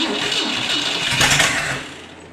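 A 1960 Cadillac 390 V8, firing up for the first time in three years, runs with a rough, steady rumble that swells briefly before easing off.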